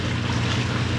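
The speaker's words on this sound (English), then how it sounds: "the engine sounds like we are running probably at about" Steady low engine drone from a sailboat motoring at about 5.4 knots among the San Juan Islands, with wind and water wash layered over a continuous loud rumble.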